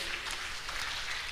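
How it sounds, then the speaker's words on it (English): An audience at a higher-education summit on AI gives steady, dense applause at moderate volume, continuous and even throughout without any voices. "Another round of applause for Mr. Njagi."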